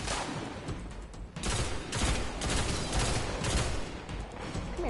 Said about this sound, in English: That's a heavy gun.